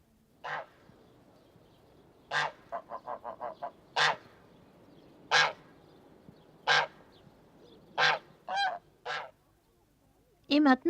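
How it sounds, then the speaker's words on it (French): Geese honk in separate loud calls spaced a second or two apart, with one brief run of rapid honks, nearby and clear. "Et des oies."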